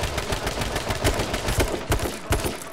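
Rapid bursts of gunfire in H1Z1: King of the Kill crackle in quick succession, loud and close, with sharp individual shots forming an uneven automatic rhythm.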